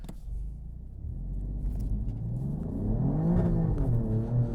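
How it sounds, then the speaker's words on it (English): An Alfa Romeo Giulia QV on Continental DWS06 Plus all-season tires does a brake stand, its engine revving up steadily into a loud, rising roar with a deep rumble. "I'll do a brake stand."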